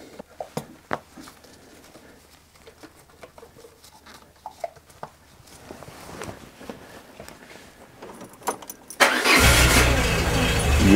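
A Peugeot 205 engine cranks and catches after an ignition fault was corrected, bursting into a loud, steady running roar near the end, preceded by scattered clicks and faint shuffling.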